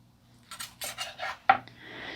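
A knife slicing through a cooked turkey fillet held steady with a fork: several close, short scraping strokes of metal against the plate, ending in a sharp clink and a longer rasping cut.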